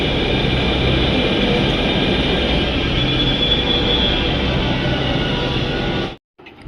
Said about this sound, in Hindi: मेट्रो आ गई है